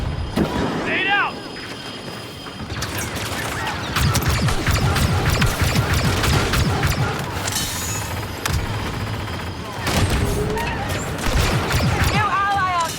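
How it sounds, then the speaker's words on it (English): Grenade blast and rapid gunfire in the Star Wars Battlefront II battle on Jakku, dense bursts of shots and crashes running continuously and loudly throughout, with voices calling out over the combat. "Grenade out!"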